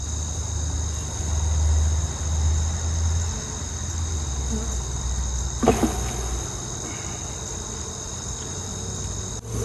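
Honey bees on a comb from a late-season swarm catch give off a steady, close buzzing drone, with a faint low rumble in the background.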